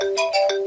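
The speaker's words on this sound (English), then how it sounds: "the iPhone has had the same old ringtone since" Classic iPhone ringtone, the default phone ring unchanged since 2013, heard as bright repeating marimba-like tone bursts at a steady quick rhythm, loud and close with no talk.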